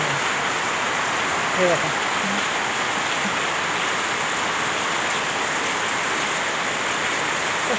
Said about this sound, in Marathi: सतत पाऊस चालू आहे सतत. आणि ते पण इतक्या जोरात आहे ना.